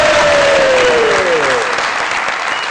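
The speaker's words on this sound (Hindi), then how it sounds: "इसी खुशी में मधुबाला के लिए तालियां हो जाएं।" A studio audience on a Pakistani TV comedy talk show claps loudly for a guest named Madhubala. The full, close applause runs briefly alongside a gliding, falling tone that fades as the clapping continues.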